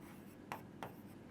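Pen or chalk strokes from handwriting during a maths lesson, two short scratchy taps over a faint noisy background, quiet and close.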